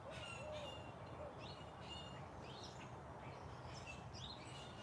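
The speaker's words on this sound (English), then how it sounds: "The birds are so beautiful out here today" Several birds chirp and call outdoors in the morning, faint and distant over a steady rumble of background noise, with no talk.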